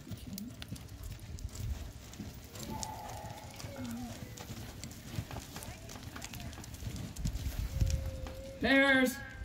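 Hooves of horses on a track clip-clop steadily on firm ground while voices murmur in the background. A short horse whinny rings out near the end.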